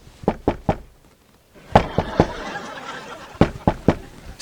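Knocking on a door in a comedy sketch about immigration agents: three bursts of three sharp, loud, close raps, separated by short pauses filled with low noise.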